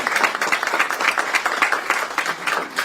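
Members of the media at a police press conference give a round of applause, a brief burst of steady clapping from a modest group, fairly close and without talking.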